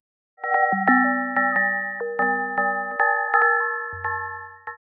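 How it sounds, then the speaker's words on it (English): Bright synthesized bell-like chimes from an experimental drum synth built in plugdata ring in layered sustained tones, shifting pitch in overlapping steps, ending on a low hum. "and a chimes or bell like generator."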